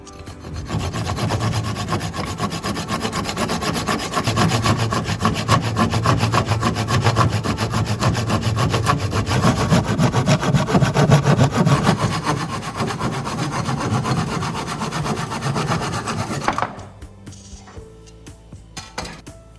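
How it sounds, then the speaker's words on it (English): A freshly sharpened, restored rusty hand saw cuts through wood in steady, loud back-and-forth strokes that run continuously for most of the stretch, then stop, leaving only faint quieter handling noise. "the sharpened saw teeth were cutting precisely and efficiently"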